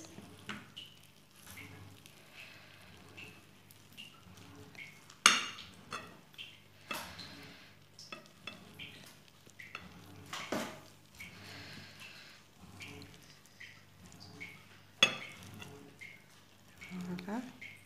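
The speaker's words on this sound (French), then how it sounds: "je vais vous couper une part pour pouvoir commencer" A portion being cut from a baked vegetable dish topped with melted cheese and cooked eggs, with utensil taps and scrapes against the baking dish, a couple of sharper knocks, under a speaking voice.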